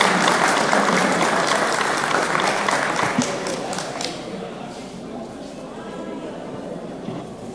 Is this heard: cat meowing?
no